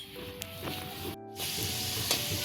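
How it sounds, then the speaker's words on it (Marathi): Lumps of asafoetida fry in hot oil in a wok with a soft, steady sizzle and hiss. It is quiet and close, with faint clinks and a brief gap partway through. "कढईमध्ये मी खडा हिंग घातला आहे। आता ते तेलावर छान तळून घेते।"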